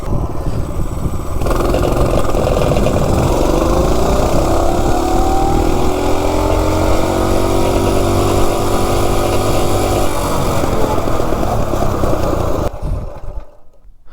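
A CT200-U minibike running on Coleman camping fuel revs hard from a standstill up to 30, its small engine note climbing steadily and loud for about ten seconds before cutting off abruptly at the end.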